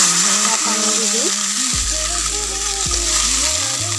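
Water is poured into a hot frying pan, bursting into a loud, continuous hiss and sizzle that stays strong throughout, with low gurgling tones underneath.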